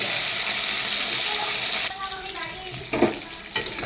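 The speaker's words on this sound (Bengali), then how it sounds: "এখন আমি আলুটাকে ভেজে নেব" Potatoes fry in hot oil in a pan, a bright steady sizzle that drops off partway through, followed by softer scraping and stirring clatter.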